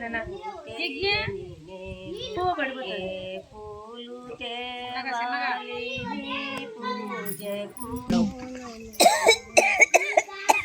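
Voices sing a chant-like Om Namah Shivaya melody at a Maha Shivaratri gathering, and a few sharp coughs break in near the end.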